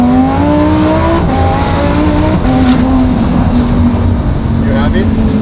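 A rebuilt twin-turbo Lamborghini accelerating hard, loud and close, its engine note climbing through several rising gear sweeps with a brief tire squeal, while people talk over it.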